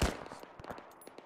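Close gunshots in Arma 3 during a military simulation assault on a compound, a loud opening crack followed by a quick run of sharper, quieter shots with no talk.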